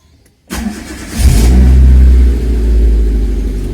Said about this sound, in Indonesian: Nah, ini mobil saya udah nyalakan.